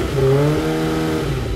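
A Kawasaki ZX25R motorcycle with a full-system aftermarket exhaust revs hard close by, a loud, raspy high-pitched engine note held briefly then easing off.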